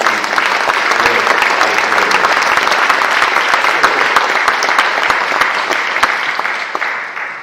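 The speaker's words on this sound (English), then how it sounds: "So let's have a big round of applause." An audience at a literary awards ceremony gives a loud, dense round of applause that holds steady and then tapers off near the end.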